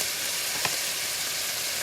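Steady frying sizzle of beef and broccoli fills the clip, a continuous hiss of food crackling in hot oil in a frying pan with one brief louder pop, no voices.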